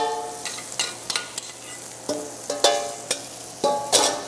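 Mexican sauce sizzles in a hot frying pan at Jumby Bay, Antigua, under a steady frying hiss. Sharp clinks and scrapes of stirring recur every half second or so, close and moderately loud, with no talking.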